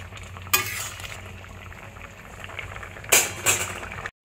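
Bottle gourd and shrimp curry stirred in a pan: a couple of sharp scraping stirs against the metal, near and moderately loud, over a steady low sizzle, with no talking.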